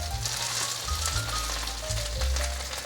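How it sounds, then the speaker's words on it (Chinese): Thick sweet potato patties, made with carrot, fry gently in a pan over medium-low heat, giving a soft, steady crackling sizzle close by with no talk. "就是中小火让它慢慢的煎熟"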